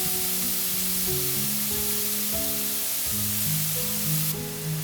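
Thin pork slices sizzle in a hot pan with soy sauce for ginger pork, a constant close hiss that plays under a gentle melodic music track, with no voices.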